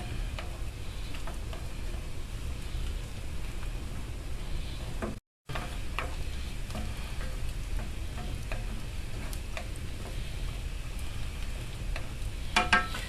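Macaroni and cheese boils in a skillet over a live fire while it is stirred. A close, continuous bubbling sizzle carries light ticks and scraping from the stirring, with a brief dropout midway.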